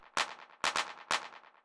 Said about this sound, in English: You can hear it's just giving it this really fast echo.